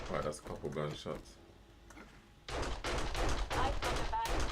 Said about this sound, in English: Right, that's a couple gunshots.